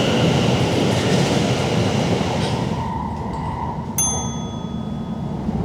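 An SWR train sits at a station, its broad rumble and hiss filling the platform, then fading slightly before a single bright chime rings out and lingers.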